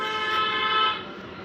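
A large vehicle on the road sounds a long, steady horn toot close by, fading out toward the end.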